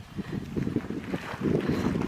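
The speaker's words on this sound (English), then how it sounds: "Obviously too windy." Gusty wind on the Heysen Trail buffeting the microphone, low rumbling bursts rising and falling, with a faint hiss of moving air.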